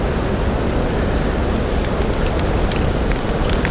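Rain dripping and falling from trees onto a fire lookout tower makes a loud, dense, continuous wash of noise close by, steady throughout with no voices.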